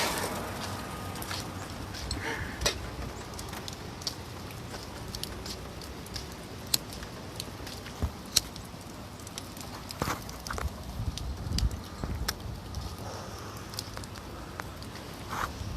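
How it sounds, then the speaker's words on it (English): Light rain sprinkling outdoors, a soft steady patter with scattered small drips and ticks spread evenly throughout, no voices. "Oh yeah, it's raining out here."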